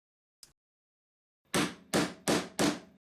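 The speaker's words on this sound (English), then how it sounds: "I just hit the punch with a hammer and it punches a hole in the gasket." A hammer strikes a hole punch through gasket material resting on a piece of mahogany, a faint tap followed by four sharp, loud metallic blows in quick, slightly uneven succession, close and alone.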